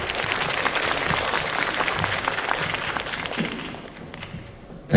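An audience at a dermatology medical conference applauds a speaker, a dense, steady round of clapping that thins toward the end, with a soft thump and shuffling as it fades.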